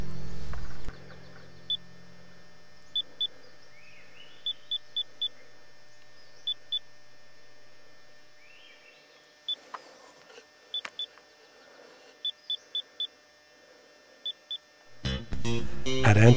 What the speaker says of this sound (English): there's a peak recording altimeter, and you'll hear it beep out its